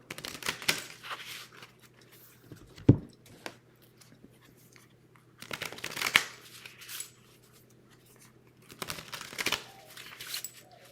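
Three bursts of tarot card shuffling, each a quick riffling flutter with soft taps, close and fairly quiet, separated by pauses of near silence.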